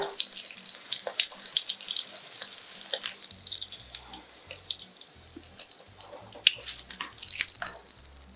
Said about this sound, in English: Lift and drain it.